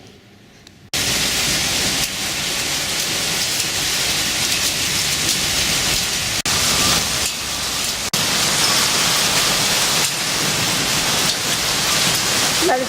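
Steady, dense rain with wind pours down during an outdoor urban walk in Pau, France, filling the clip with loud, continuous hiss after a brief quieter start.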